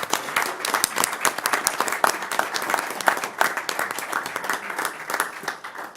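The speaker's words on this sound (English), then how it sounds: "once again, a round of applause" A modest group at a Metro Fire board meeting applauds, with individual claps sharp and clearly separable in an uneven patter that thins out toward the end.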